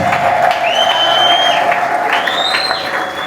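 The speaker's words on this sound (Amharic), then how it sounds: "ለጌታ ለኢየሱስ እልልታ በድጋሚ" A crowd cheers and claps loudly while high, sustained ululating trills rise and waver over the din, continuing throughout.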